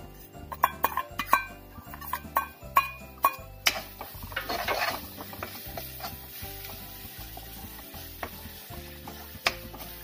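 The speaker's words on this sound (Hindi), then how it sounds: "अब हम इसको सभी मसाले डालकर अच्छी तरह से भूनेंगे।" Spices and green chilies being sautéed in a pan for a ginger-garlic gravy, a steady sizzle beneath regular metallic clinks and scrapes of a spoon stirring against the pan, close up with no talking.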